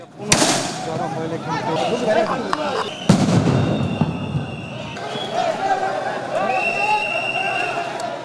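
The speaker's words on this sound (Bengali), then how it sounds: "পুলিশ আন্দোলনকারীদের ছত্রভঙ্গ করতে সাউন্ড গ্রেনেড ও রাবার বুলেট নিক্ষেপ করে" Sound grenades and rubber bullets fired by police to scatter protesters in a street clash in Bangladesh, heard as sharp loud bangs, one near the start and another around three seconds in, over a continuous noisy crowd and street din.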